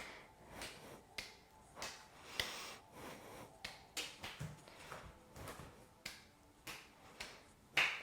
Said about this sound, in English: We're going to clap the hands forwards and clap the hands back.